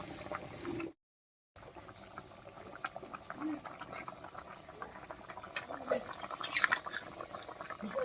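Bengali sea-fish curry boiling in a pot, a faint, steady bubbling with soft pops and patter, continuous and low throughout after a short gap of silence.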